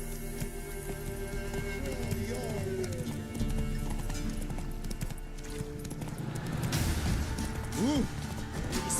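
In The Witcher 3, the horse Roach clip-clops along at a trot under steady background game sound, with a few whinnies and neighs near the end and a voice talking faintly at times.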